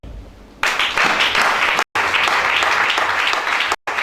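Congregation applauding during a church worship service, a sustained loud burst of clapping from many people, briefly cut by two abrupt silences.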